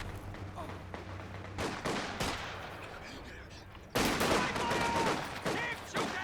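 In a 3v3 Company of Heroes 2 match, a .50 cal machine gun fires in rattling bursts amid other battle noise, with sudden loud jumps in intensity and faint voices in the background.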